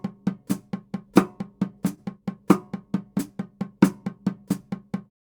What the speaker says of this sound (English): So what if we played it as 8th note triplets?